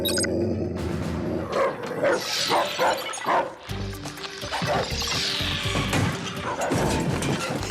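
Cartoon dogs barking excitedly amid crashing, splashing chaos, with repeated loud yips and barks over busy clattering and sloshing effects throughout.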